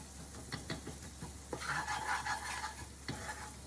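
Onions and flour stirred in a pan for enchilada sauce, close scraping strokes of a spoon against the pan over a soft sizzle, with a brief louder frying burst midway.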